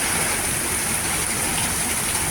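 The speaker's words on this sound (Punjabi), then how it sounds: "ਇੰਨੀ ਫਾਸਟ ਮੀਂਹ ਆ ਤੇ ਹਨੇਰੀ ਆ ਬਹੁਤ ਹੀ ਹਨੇਰੀ ਤੇਜ਼ ਆ" Dense, steady hiss of heavy rain pouring down, with a constant noisy roar of wind blending into it, loud and unbroken.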